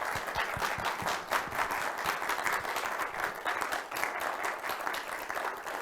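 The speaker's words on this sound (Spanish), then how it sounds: "Le damos un cordial aplauso a nuestra doctora." Steady, dense applause from the audience after a talk, thick and continuous throughout at a moderate distance, with no break or fade.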